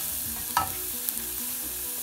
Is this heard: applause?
no